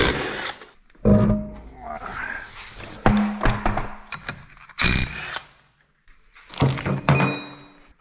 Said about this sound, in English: I'll just take this wheel off